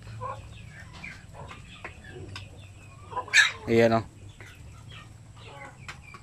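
Sick chickens with colds cluck in short scattered calls inside an isolation pen, one louder squawking burst standing out midway, while a person speaks briefly.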